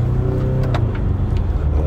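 A Ford Ranger Raptor diesel engine gives a loud, steady low drone from inside the cabin as it accelerates.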